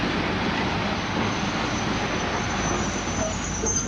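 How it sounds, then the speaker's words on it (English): A train pulling into a station in a dramatised audiobook scene, a steady low rumble and rolling rail noise with a faint high squeal of wheels, continuous and moderately distant, no voices. "There's another train before hers."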